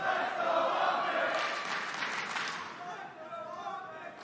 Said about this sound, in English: You hear like, the crowd's like trying to get into it